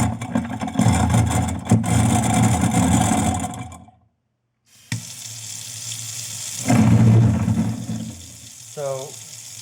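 A garbage disposal with rusted impeller blades runs loudly with a rough rattling churn, cuts out briefly to silence, then starts up again with a grinding whir that surges and fades.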